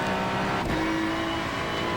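A race car in iRacing pulls out of the pits, its engine a steady close drone with a brief shift around the middle and no talk.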